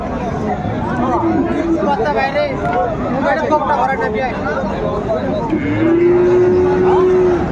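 Sahiwal bulls at a cattle market in Dinajpur give a couple of drawn-out, tonal moos, one early and a longer one near the end, over a steady babble of crowd chatter and market noise.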